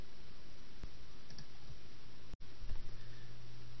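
Computer mouse clicking while working in spreadsheet software, a few sharp isolated clicks spaced apart over a quiet room hiss, followed by a soft low hum.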